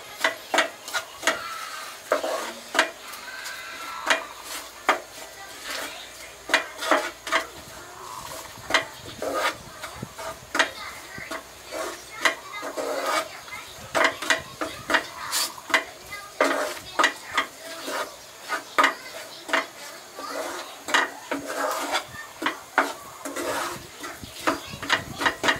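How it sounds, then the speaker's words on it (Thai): Curry paste being stirred into coconut milk in a pot: a steady run of scraping spoon strokes and light clinks against metal over a soft sizzle, close and continuous. "ผัดกับเครื่องแกงกับตัวกะทิให้เข้ากัน"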